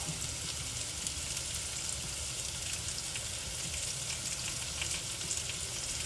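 Shrimp and squash sizzle in a skillet over medium-high heat, a steady soft crackling fry with faint stirring, close and continuous, no voices.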